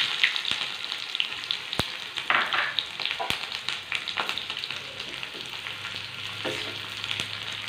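Chopped shallots and mustard seeds sizzle and crackle steadily in hot oil, with a few sharp pops and stirring scrapes standing out close by.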